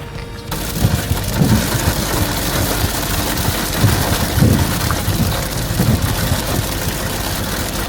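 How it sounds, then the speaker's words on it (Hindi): Heavy rain mixed with falling snow in winter Iceland, a dense, loud, steady hiss with low rumbling underneath, continuous throughout with no voices. "बारिश स्नोफॉल दोनों का मिक्सचर शुरू, और बहुत हैवी रेनफॉल हो रही है।"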